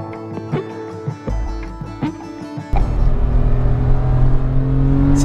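A Porsche 997 Carrera 4S with a manual gearbox, the engine first blipped in short separate revs, then a clunky gear engagement, then a sustained rising engine drone pulling hard, close and loud.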